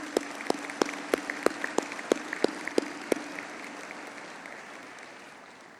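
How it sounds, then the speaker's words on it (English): Audience applause at a university health sciences graduation ceremony, sustained clapping from a large hall with some sharp individual claps standing out, gradually fading toward the end. "request all the audience, the parents, the friends, to give you a big round of applause"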